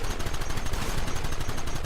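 Continuous rapid gunfire in the Western shooter game Red Dead Redemption, dense overlapping shots in a steady rattling stream, loud and sustained with no pause.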